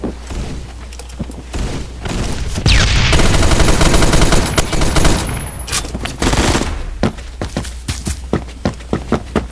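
An M60 machine gun fires in the Phantom Forces video game: loud, close bursts of rapid gunfire give way to a rhythmic string of sharp single shots, with booms and footstep-like thuds between them.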